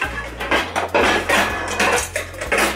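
Metal sauté pan being set back onto a kitchen stove, with several close, sharp clanks and rattles of cookware in quick succession over about three seconds.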